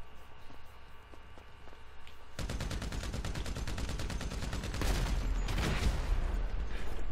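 Gunfire in GTA V Online: quiet at first, then a sudden sustained volley of rapid automatic shots that swells louder toward the end, several shooters overlapping.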